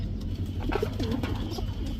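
Chinese teddy pigeon chicks cooing softly, a few low rounded coos over a short stretch with faint background noise and no talk.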